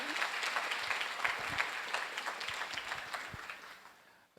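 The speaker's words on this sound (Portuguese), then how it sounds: "mais uma salva de palmas, por favor" Audience applause fills an opening ceremony at a lecture event, a dense, steady clapping from a crowd that holds for several seconds before tapering off toward the end.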